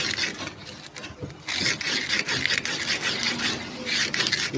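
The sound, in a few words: sanding motor commutator with sandpaper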